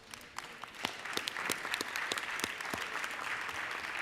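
A round of applause from members in a legislative chamber, steady clapping building slightly and continuing throughout, with no talking.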